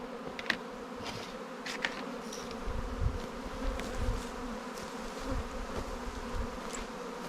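Honey bees buzz steadily around a hive, a dense low drone with individual insects passing close, fairly soft and continuous outdoors.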